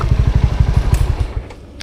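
A motorcycle engine idles close by with a rapid, steady putter of low thumps. It slows and fades as it shuts down, leaving faint clicks.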